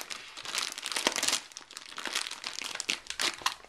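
A parcel containing a ShengShou Megaminx is cut open with close, crisp crinkling and tearing of packaging, a busy stream of rustles and sharp rips lasting a few seconds with no talk.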